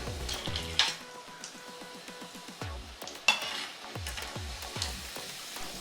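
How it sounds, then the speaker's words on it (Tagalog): Coated pastry cream deep frying in hot oil over medium heat bubbles and crackles steadily, with rapid small pops and a few sharper clinks, close and continuous. "I-deep fry natin ito over medium heat until golden brown."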